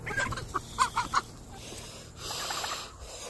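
Chicken clucking up close in a few short, bright bursts within the first second and a bit, followed by a quieter stretch of background noise and faint rustling.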